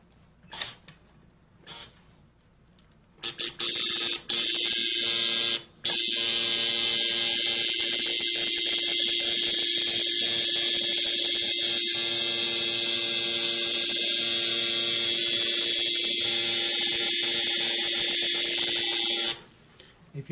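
A tattoo machine runs while a line is drawn, a loud, steady electric buzz that starts after a few brief bursts and holds for about fifteen seconds before cutting off.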